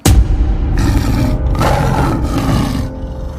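A man in a house lets out a deep, loud tiger-like roar that surges in two or three rough growling waves over about three seconds. It is close and heard alone.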